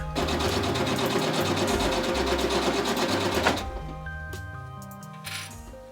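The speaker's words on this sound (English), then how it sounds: "So let's sew the sleeves and the sides" A sewing machine stitches blouse sleeves and side seams with a rapid, close mechanical chatter for several seconds, then slows and stops, leaving faint handling clicks.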